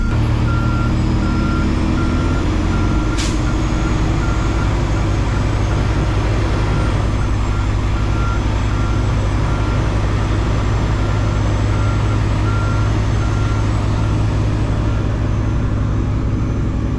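Truck hauling an oversized dozer load backs up, its back-up alarm beeping steadily and evenly over the loud, constant drone of the diesel engine, close by.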